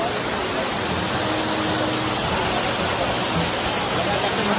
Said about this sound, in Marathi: तेव्हा माझ्या मागे वॉटरफॉलच आहे.